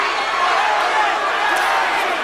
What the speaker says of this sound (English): They all chanting Larry, Larry.